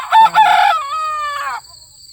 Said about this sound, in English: I got 3 distinct crows